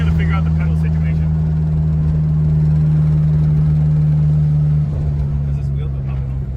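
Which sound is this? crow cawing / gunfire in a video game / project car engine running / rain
project car engine running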